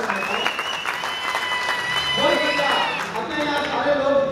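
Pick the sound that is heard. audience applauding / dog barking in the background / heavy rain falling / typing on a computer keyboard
audience applauding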